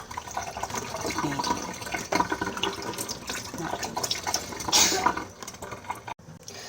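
Tap water runs and splashes into a basin being filled to soak sausage casings for Isan-style glass noodle sausage, a steady close rush of liquid that swells briefly near the end before cutting off.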